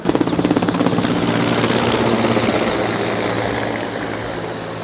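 Firefighting helicopter over a forest fire, its rotor thumping loudly and close at first, then blending into a steady roaring wash as it hovers overhead.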